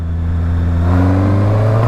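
A 2019 Honda CBR650R motorcycle rolls on the throttle from low speed in third gear, its engine note rising steadily in a loud, close, continuous drone.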